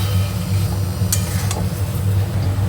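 A paste of ground poppy seed and coconut sautés in a pan with a low, even sizzle, a low rumble beneath, and a couple of sharp clinks of a utensil against the pan.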